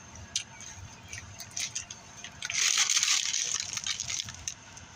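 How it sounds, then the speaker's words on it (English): Water is drunk from a bottle outdoors beside a 7-Eleven, with close sloshing and gulping that rises into a brief louder swell of liquid noise midway. "I wash it down with some fucking water."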